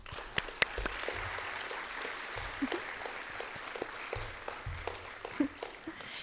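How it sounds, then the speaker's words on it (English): Light, steady applause from a modest conference audience, scattered claps continuing without a break at moderate distance. "thank them all and all of our volunteers with a round of applause"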